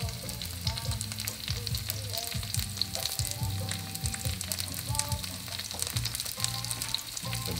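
Shrimp sizzle steadily in a hot frying pan for a Venetian shrimp and tomato sauce dish, a dense continuous crackle with small pops and occasional stirring, close and fairly loud with no talk.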